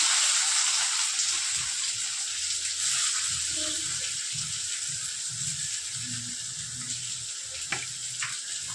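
Chopped onion fries in a pan with a continuous, close, hissing sizzle that holds steady and eases slightly over time, with faint low murmurs in the background.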